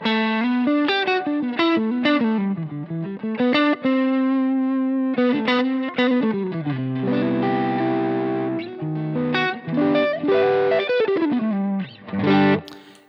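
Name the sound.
electric guitar through overdrive pedal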